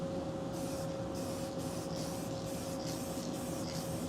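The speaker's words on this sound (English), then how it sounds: "spray a coat of the sealer on" A spray gun lays a coat of sealer mixed with reducer over a cleaned panel, producing a continuous close hiss in repeated short passes under a steady compressor hum, with no talking.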